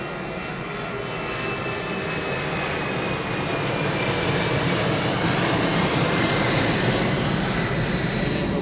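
Airplane climbing steeply out after takeoff at East Midlands Airport at night, a steady broadband engine roar that swells slightly and holds loud throughout with a faint whine riding on top.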